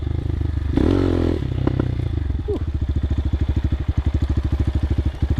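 A CSC TT250 trail motorcycle on a dirt trail: a brief clatter and scrape at first, then a close, even run of rapid engine pulses at low revs that continues to the end.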